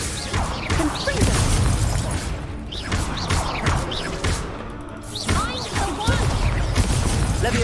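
Confringo spell blasts in Hogwarts Legacy: a dense run of crashing, whooshing magical impacts and debris under continuous loud game action, with a voice talking over the fight.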